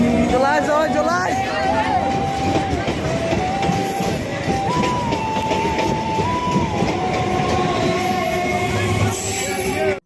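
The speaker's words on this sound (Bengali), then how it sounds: "এই ট্রেনটা চলে যাচ্ছে ছেড়ে" A passenger train pulls out of a station platform on the way to Dakshineswar, its rumble and clatter continuous and close, with crowd chatter and people talking over it throughout.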